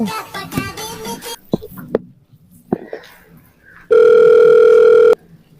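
A steady telephone dial tone sounds for about a second, following a few moments of talking and light handling clicks.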